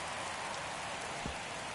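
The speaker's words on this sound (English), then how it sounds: "This rain is not letting up." Steady rain pours down during a baseball game in the video game MLB The Show 23, a dense, even wash of drops hitting surfaces with no voices over it.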